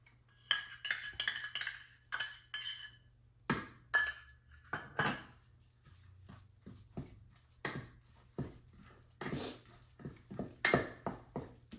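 Wheat flour roasts in ghee in a pan as a spoon clinks and scrapes against the metal in irregular, close strokes, with quiet pauses between them and no talk.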